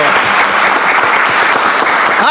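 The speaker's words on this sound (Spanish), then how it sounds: "Fuerte el aplauso." Loud, dense applause from a church audience fills the whole stretch, steady and close, with no pauses.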